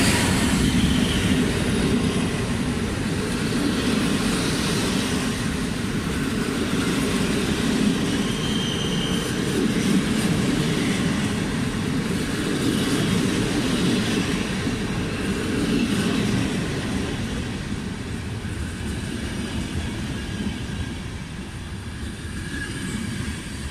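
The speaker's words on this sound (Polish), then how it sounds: "Odjeżdża pociąg Regio relacji Kołobrzeg - Szczecin Główny." A Regio train from Kołobrzeg to Szczecin Główny departs, rolling steadily with a continuous rumble of wheels and carriages and faint squeals, easing slightly toward the end; no one speaks.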